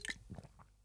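A quick sip of water: a few soft, faint mouth clicks and a small wet gulp, close to the microphone and heard alone in a quiet room.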